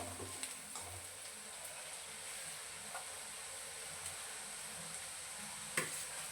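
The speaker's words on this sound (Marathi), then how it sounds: "हळद टाकून आपल्याला मिक्स करून घ्यायचं." Onions fry in oil with turmeric stirred in, giving a steady, faint sizzling hiss with a few soft clicks of stirring scattered through it.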